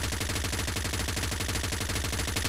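Rapid automatic gunfire from a Razorback gun in a video game, a fast steady stream of loud shots with no break.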